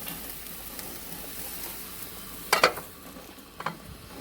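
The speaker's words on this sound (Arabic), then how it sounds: "كده انا غطيت اللحمه طبعا اهي، ما شاء الله عليها بتغلي اهي" Meat and spinach in a covered pot bubble steadily with a soft sizzling hiss, broken by a few brief clattering knocks.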